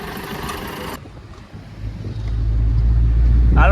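An Eco tempo van pulls up on a road, its engine rumble swelling from faint to a loud, steady drone close by, after a short burst of background noise and with a brief voice near the end.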